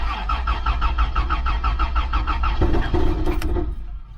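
A Toyota Land Cruiser engine cranking after a fuel filter replacement, a steady rapid starter churn for over two seconds, then clunks and sputtering as it catches, close and loud with no talk.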